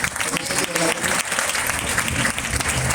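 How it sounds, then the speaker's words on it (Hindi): A congregation claps hands at a Good Friday church service, loud and dense clapping from a nearby crowd with shouting voices mixed in throughout. "ताली बजा सकते हैं आप लोग।"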